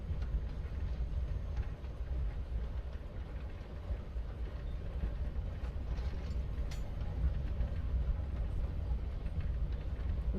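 A steady, low rumbling rattle of a moving train carriage in Life Is Strange: Before the Storm runs continuously at even volume with no voices.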